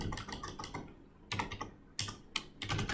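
Typing on a computer keyboard while writing Python code, with quick bursts of clicking keystrokes, a short pause, then further rapid clatter, close and fairly quiet, with no talking.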